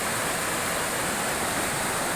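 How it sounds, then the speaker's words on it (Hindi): Flooded river in a hill village after heavy rain, raging after washing away a bridge: a loud, constant, dense roar of rushing water filling the whole clip, with no pauses. "हे भगवान, इतनी नदी, इतनी भयंकर नदी"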